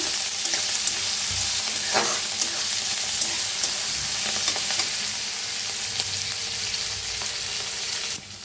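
Coriander leaves roast in a hot pan, a steady close sizzle with stirring scrapes and a few sharp clinks of the spoon against the pan, no voices.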